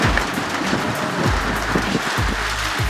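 Steady rain pours down around a shed during a summer bike ride, making a dense, continuous hiss with no voices heard.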